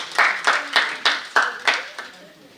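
An audience at a women's leadership forum claps in a steady rhythm, about eight evenly spaced claps at fairly close range, tapering off at the end.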